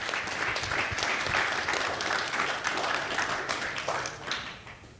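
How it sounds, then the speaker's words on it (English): An audience at a Miami congress applauds steadily, a broad wash of many hands clapping that stays level before tapering off near the end. "Applause, please."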